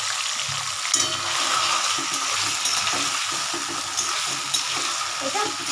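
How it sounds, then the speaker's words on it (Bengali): Broken wheat dalia and mung dal frying and being stirred in a pan with whole cumin, a steady close sizzle broken by scraping stirs, with no talk over it. "ডালিয়াটা একটু ভাজা ভাজা করবো।"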